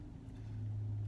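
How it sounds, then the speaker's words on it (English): A car engine turns over and settles into a low, steady rumbling idle, heard close and alone late at night on a dark rural road. "Let's see if this car starts up."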